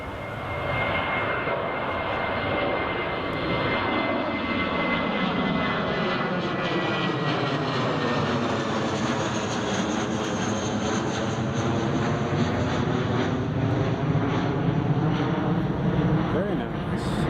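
Belgian Air Force A400 military transport aircraft taking off from Newcastle Airport, a loud sustained propeller-engine roar with a sweeping pitch shift as it passes, heard from nearby, with a voice talking over it.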